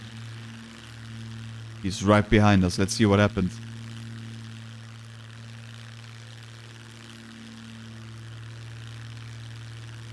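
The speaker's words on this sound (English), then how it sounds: "It's another plane." A propeller airplane drones nearby in the survival game Scum, a low steady engine hum held throughout while someone speaks briefly over it.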